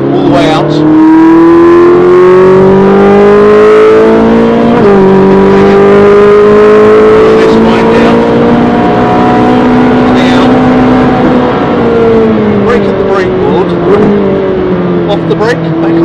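A race car engine on the wet, drying Brands Hatch Indy Circuit holds a loud, steady drone that rises and falls through gear changes and throttle, with someone talking over it throughout.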